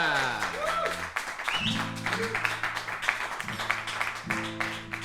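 An audience gives scattered applause at the start of a live music stream, light clapping mixed with talking and sustained tones in the room.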